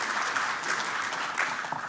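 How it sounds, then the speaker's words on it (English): A conference crowd at AusCERT 2018 breaks into brief, dense applause for first-time attendees, a continuous wash of clapping at even loudness. "round of applause for our newbies"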